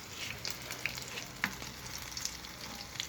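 Corned beef fries in a small pan with a continuous crackling sizzle, broken by a few sharper pops and faint stirring scrapes, close and steady with no talking.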